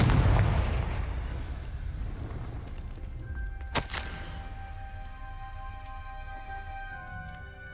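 A Confringo spell explodes in Hogwarts Legacy with a heavy, rumbling boom at the start that fades slowly, followed by a sharp crack midway and a lingering tonal shimmer.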